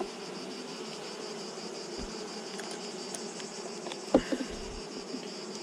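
A colony of honeybees buzzes in a steady, close, moderately quiet drone at the hive, with a few brief soft knocks and rustles.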